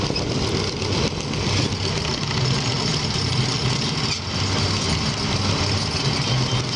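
A small Wheel Horse garden tractor engine chugs steadily under load, pulling a weighted stoneboat, a continuous low rumbling drone with no voices.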